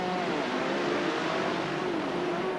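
Racing sidecar motorcycles flat out down the long straight at Mallory Park in 1988, heard as a faint, distant blended engine drone with a steady high whine, continuous and without clear passes.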